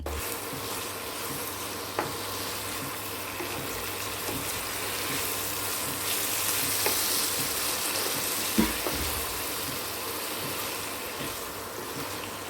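Brinjal (eggplant) pieces frying in oil in a pan, a steady close sizzle that runs evenly the whole time, broken by a couple of soft clicks and no talking.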